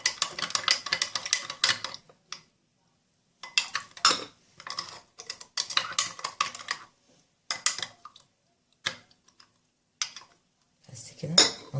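Quick, repeated scraping and clinking of a spoon stirring a mixture of flour and warm water in a bowl for homemade Egyptian farmhouse cakes, in short bursts separated by pauses, followed by clattering as the bowl is covered.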